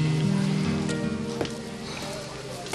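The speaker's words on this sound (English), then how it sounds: "Don't you just love the sound of rain?" Steady, dense rain hiss fills the scene throughout, with a low tonal hum beneath it and faint bumps, close and even in level.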